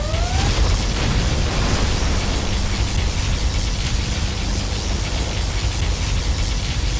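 A particle cannon strike in the real-time strategy game Command & Conquer Generals Zero Hour, heard as a loud, steady roar of rushing, crackling noise that fills the whole stretch without a pause.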